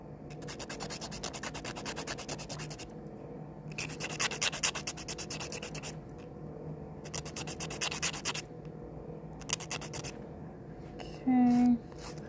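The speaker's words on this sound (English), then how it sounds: "Let's just keep filing." Fingernails being filed with a nail file during an at-home glitter backfill, done with the non-dominant hand: close, dry, raspy strokes in quick bursts of back-and-forth scraping with short pauses, ending in a faint thump.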